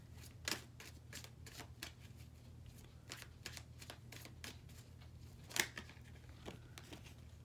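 Tarot cards being shuffled before a single card is drawn: a run of soft, quick riffling flicks with a few louder snaps, close and fairly faint over a low steady hum, with no talking.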